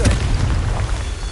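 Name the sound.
Confringo blasting spell explosion from the video game Hogwarts Legacy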